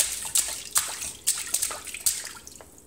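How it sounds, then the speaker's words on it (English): A small child splashes bathwater in a tub, giving repeated bright slaps and drips in an irregular rhythm, close and fairly loud, with no talking. "Do you like splashing?"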